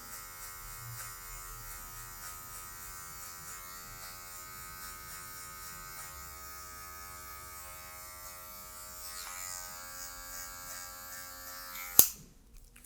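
An electric hair clipper hums in a steady, even buzz throughout a dark-toned fade haircut, then ends with a sharp click near the end.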